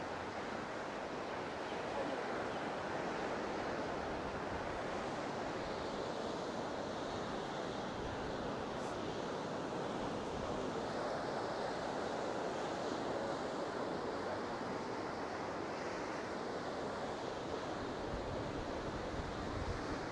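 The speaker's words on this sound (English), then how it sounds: "The surf is up." Steady ocean surf washes onto a beach at Cromer, a continuous roar of breaking waves with some wind buffeting, no voices.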